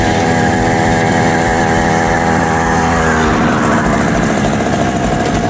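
Small 45cc engine of the Gazulya ice speed-record vehicle on Lake Baikal ice, a loud buzzing high-revving note that steadily shifts pitch midway, continuous and close throughout.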